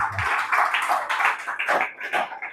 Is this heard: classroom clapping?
yes